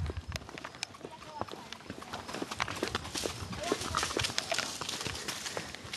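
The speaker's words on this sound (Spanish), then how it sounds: "Y aquí voy yo montado en mi caballito." Horse hooves clip-clop at a walk while being ridden up a mountain trail in the Dominican Republic, as a steady uneven rhythm of close knocks with someone talking over them.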